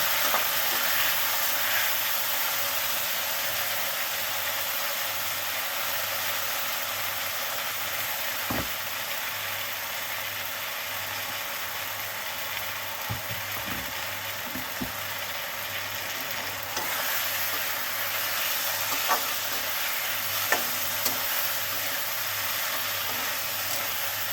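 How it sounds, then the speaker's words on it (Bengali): A mustard and cumin spice paste with green chilli fries steadily in a pan, giving a soft, continuous sizzle with a low steady hum underneath and a few faint clinks, no one speaking. "3টে মশলা দিয়ে মশলাগুলো দিয়েছে ভেজে নেব।"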